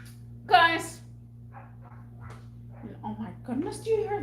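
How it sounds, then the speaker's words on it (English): A dog whimpers and gives a short yelp up close, then lets out a few more whiny cries, with a steady electrical hum running underneath. "do you hear that dog?"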